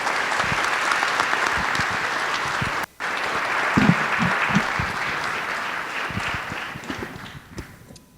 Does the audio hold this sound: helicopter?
no